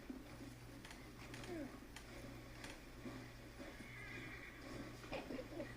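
A horse in the video game Battlefield 1 whinnies faintly a few times over a low steady hum, with scattered clopping hooves and light ticking sounds in the background.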